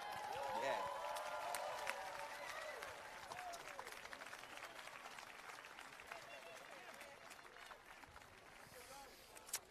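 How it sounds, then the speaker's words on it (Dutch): Crowd applause at an outdoor worship and prayer gathering on the Malieveld in the Netherlands, a broad wash of clapping and cheering from a large open-air audience. A voice talks over it at the start before the clapping carries on alone. "Geef God een applaus."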